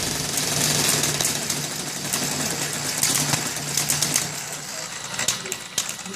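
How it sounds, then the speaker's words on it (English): A benchtop hybrid drive system runs steadily, its air engine and electric motor together giving a continuous mechanical whir and hum with faint rattling ticks, near and fairly loud throughout. "If I decrease the addition to the system from the air engine, the speed of the electric motor will increase."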